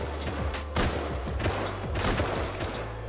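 Python revolver in Rust firing in a rapid burst of close, loud gunshots, several sharp cracks in quick succession over steady game background noise.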